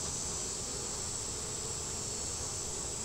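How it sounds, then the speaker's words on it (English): Honey bees swarm around an open beehive during hive condensing, giving a constant, dense buzz with no pauses and no voices. "all I can see is a ton of bees"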